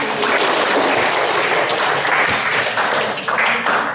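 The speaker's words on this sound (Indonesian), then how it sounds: "kita boleh tepuk tangan" A room full of people claps loudly and continuously after a guided eyes-closed exercise at a mind-programming seminar. The applause is dense and sustained from start to finish, with no speech over it.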